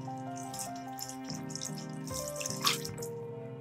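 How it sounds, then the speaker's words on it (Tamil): Rice-washing water poured from a cup into a pot of chicken pulao makes a steady gurgling, splashing stream up close, rising briefly near the end, with no talk over it. "2 கப் பாஸ்மதி ரைஸுக்கு நான் 3 கப் தண்ணி ஊற்றுறேம்மா."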